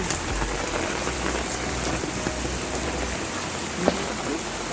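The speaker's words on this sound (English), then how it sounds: "You know what is happening now? It's raining." Steady rain patters on the ground outdoors in a broad, even wash, with a sharp knock near the end and no clear speech.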